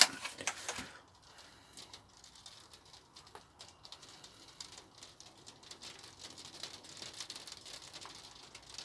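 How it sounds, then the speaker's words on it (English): Light rain patters on an allotment garden in the UK, a faint, irregular ticking of drops that thickens toward the end, with a couple of sharper knocks near the start. "You can probably hear it's started raining again now."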